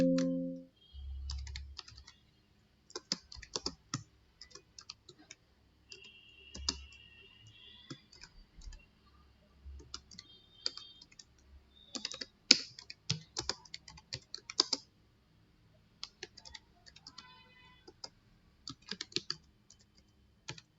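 Computer keyboard typing in a PowerPoint review session: irregular bursts of light key clicks spread across the clip, near and moderately quiet, with short pauses between runs and no talking.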